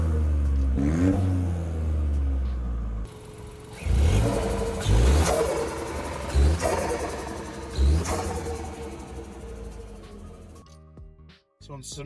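A Mountune 260-upgraded Ford Fiesta ST Performance Edition accelerates on a road drive, the engine revving up and down through several surges and gear changes, fairly close, with a voice heard over it.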